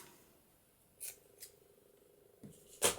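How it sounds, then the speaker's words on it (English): Scissors snip through an acetate tag for a junk journal, with a couple of short cuts and then a louder crisp double snip at the end, close and with no talking. "Trim that off,"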